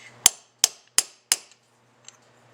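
Four quick hammer taps driving a part down on a Carter 3155S, evenly spaced sharp metallic knocks close by, then a fainter fifth tap after a pause.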